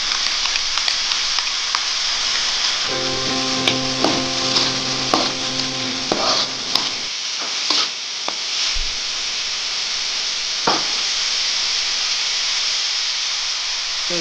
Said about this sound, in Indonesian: Kita tumis ya bawang bombay,